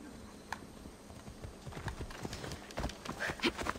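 A horse gallops along the coast in the Assassin's Creed Odyssey game, with soft, rhythmic clip-clop hoofbeats that grow denser and a little louder, over a quiet background.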